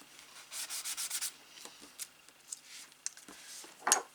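A sponge rubs quickly back and forth over a worn craft cutting blade, making a close, soft scrubbing burst of about seven strokes, then a few faint scattered taps and scrapes.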